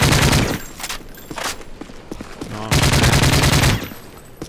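An AK47 fires in Modern Warfare 3 on Xbox, with two loud rapid bursts of automatic gunfire at the start and near the end and scattered shots between them.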